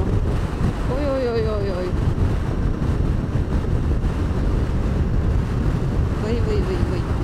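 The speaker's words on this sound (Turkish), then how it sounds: "Ters rüzgar akımında kaldım." Strong headwind buffets the microphone in a continuous loud roar outdoors near Wellington, New Zealand, with brief vocal sounds rising over it.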